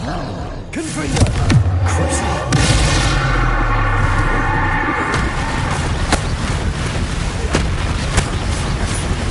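Confringo blasting curse explosions in the Hogwarts Legacy video game, a dense run of loud booms and crackling blasts layered over continuous battle noise, with several sharp hits standing out near the end.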